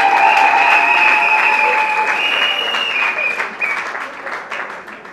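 A wedding audience at a religious ceremony applauds the groom, a loud crowd clapping at once and then gradually thinning and fading.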